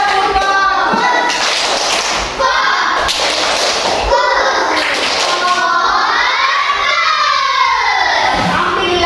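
A class of young children performs a rhythmic 'tepuk fokus' clapping routine, with bursts of claps mixed with shouting young voices and chanting, loud and close throughout.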